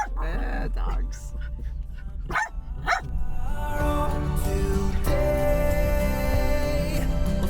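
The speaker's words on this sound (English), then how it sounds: "Dogs." Dogs traveling in an RV bark and yip in a few sharp bursts over the first seconds. A person talks nearby, and a steady musical hum takes over afterward.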